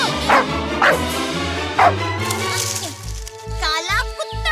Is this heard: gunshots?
no